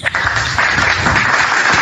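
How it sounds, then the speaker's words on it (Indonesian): An audience breaks into brief, dense applause, a loud wash of many hands clapping together for a couple of seconds. "Ini yang tepuk tangan siapa?"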